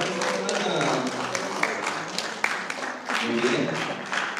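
Audience claps at a Mother's Day celebration with a numbered prize draw, a moderate patter of hands that fades and swells, with a few sharper claps and people talking and cheering in the room over it.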